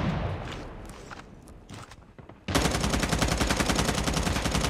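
Rapid M4 rifle fire in a first-person shooter game: scattered single shots and movement at first, then a sudden loud, sustained automatic burst of evenly spaced shots close up, with no talk over it.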